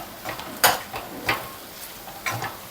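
Masala being stirred into potato pieces in a pan for a crispy low-oil aloo fry, with a few scattered scrapes and clinks of a spoon against the pan, fairly close and moderately loud with quiet gaps between strokes.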